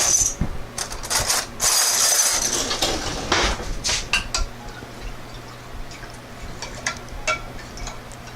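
Metal cutlery and dishes clink and rattle nearby while another spoon is fetched, a burst of busy clatter up front, then lighter scattered ticks and taps.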